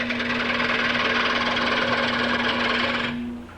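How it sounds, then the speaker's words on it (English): A fingernail ground 3/4 inch gouge cuts a wood platter on a spinning lathe, giving a loud sustained whirring hum with a steady tone that fades at the end. "I'm going to do almost all of my turning with a fingernail ground gouge."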